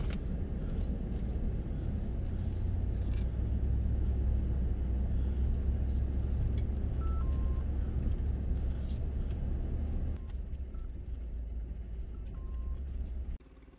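An off-road overlanding vehicle on the Onion Creek trail in Utah grinds through a mud hole with a steady low engine rumble and splashing noise, easing off and dropping quieter near the end before cutting out.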